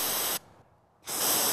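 Bear spray canister released in short bursts in Banff National Park, two loud, close hissing blasts separated by a brief quieter gap.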